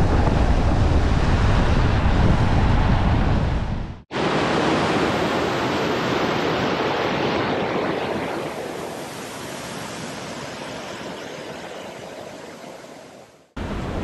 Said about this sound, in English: We just saw this beautiful waterfall right over here.